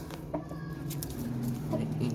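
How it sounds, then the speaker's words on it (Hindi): A hen clucking close by on a small home poultry setup being readied for sale, soft irregular clucks over a steady low rumble of background noise. "एक ये मुर्गी है"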